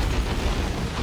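Eldar D-cannon blown apart in the Dawn of War 2 real-time strategy game, a dense, rumbling explosion with heavy low-end roar sustained loudly throughout the short burst.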